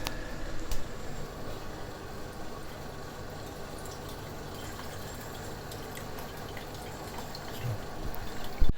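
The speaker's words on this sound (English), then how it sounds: "I'm going to squeeze out all the water from the chana" Water squeezed out of fresh chana (paneer) for homemade rasgullas drips and trickles in a soft, steady patter, quiet and close, ending in a brief louder bump.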